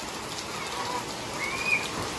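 Heavy rain pours down during a typhoon, a dense, steady hiss of water on surfaces that holds for the whole stretch, with a couple of faint bird chirps high above the downpour.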